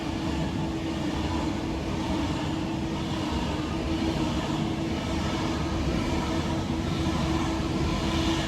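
Avanti West Coast train 39115, running from London Euston to Manchester Piccadilly, rushes past as a loud, steady rumbling roar with constant rail noise and no voices.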